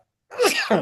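A single sneeze bursts out abruptly after a brief silence during an indoor interview, loud and close, with a sharp intake followed by a second explosive puff.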